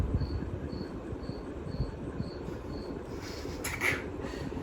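A cricket chirps in short, evenly spaced bursts in a quiet room, near a 42-inch SMC F42 ceiling fan running with a low steady hum; the chirping fades after a few seconds as a brief squeak rises.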